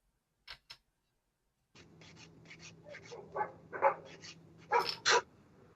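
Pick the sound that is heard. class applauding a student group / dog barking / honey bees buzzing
dog barking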